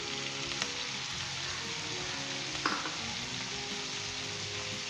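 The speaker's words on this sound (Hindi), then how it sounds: "इसे दोबारा 2 से 3 मिनट अच्छे तरीके से हम भुनेंगे।" Spices and fried onions for turmeric chicken sizzle and fry steadily in a pan, with a constant crackling hiss and a couple of brief stirring clinks.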